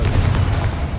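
A Confringo blasting spell from the Hogwarts Legacy video game bursts as a loud, dense explosion with a deep booming low end, filling the whole second without a break.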